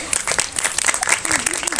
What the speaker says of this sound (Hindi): एक बार जिंदगी के लिए तालियां बजा दे।